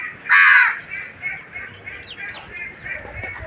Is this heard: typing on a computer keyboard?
no